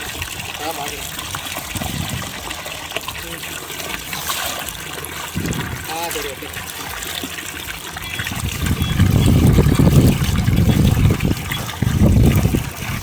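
Water gushes from the outlet of a 2HP solar-powered borewell pump filling a farm pond, a loud continuous rushing flow that swells toward the end while someone speaks briefly over it.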